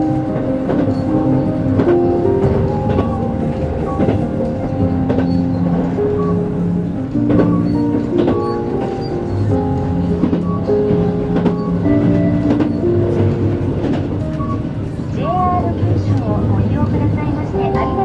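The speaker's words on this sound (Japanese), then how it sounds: "This train is Kirishima Limited Express, bound for Miyazaki." Kirishima Limited Express train running on rails in Kyushu, Japan, heard from inside as a steady, loud rumble throughout, with announcements and other talk over it.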